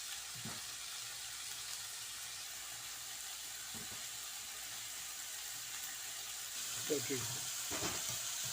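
Spiced tomato gravy for okra fries in a pan with a soft, steady sizzle, broken by a few light clinks and scrapes of stirring toward the end.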